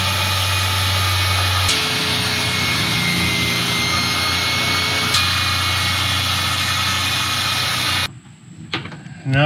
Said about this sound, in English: Now for the crappiest jigsaw in America.